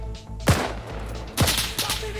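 Gunfire in Arma 3 during a firefight: two sharp, loud shots about a second apart, each with a booming echo tail, over a low rumbling background.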